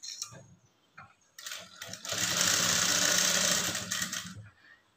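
A sewing machine stitches a lining blouse. Faint handling clicks come first, then the machine runs in one steady, fairly close whirring burst of about three seconds before stopping.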